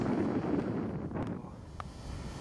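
Cold wind blows across a deep-snow coast near Kärdla, a steady low rumble with faint buffeting against the microphone and a couple of brief higher whooshes.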